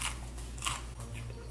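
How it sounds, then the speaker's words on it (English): Someone bites into a crunchy fried chicken tender at close range, giving a few crisp crackling crunches. "Give us a crunch. Let us hear it."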